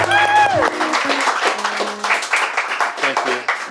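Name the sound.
audience applause welcoming guests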